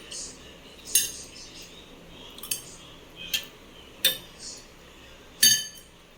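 A brass plate being cleaned, giving a handful of sharp, bright metallic clinks and clanks at irregular intervals over a quiet background, close by and with no speech.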